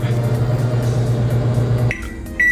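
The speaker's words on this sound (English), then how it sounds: "I'll let the microwave go for 30 seconds" A microwave oven running with ice cubes on a plate gives off a steady, loud low hum with a mechanical drone, then cuts off and leaves a couple of short electronic beeps.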